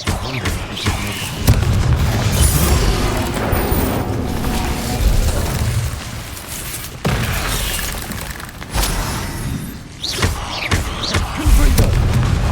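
Confringo blasting spell explosions in a Harry Potter video game hit as a dense run of loud booming blasts and crackling debris, with repeated impacts building and fading across the whole stretch amid game action.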